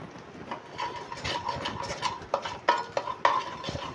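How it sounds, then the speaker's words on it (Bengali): Butter and whole black peppercorns stirred in a hot pan: soft scraping and rubbing strokes with a faint sizzle, a few sharper clicks of the utensil against the pan near the end, close and alone. "বাটারটা হালকা করে নাড়িয়ে গোটা গোলমরিচ ফোড়ন দিয়ে দিলাম"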